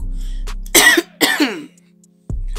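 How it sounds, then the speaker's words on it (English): Two harsh, close coughs come in quick succession, loud and rasping, followed by a short throat-clearing sound. "Excuse me, let me cough because"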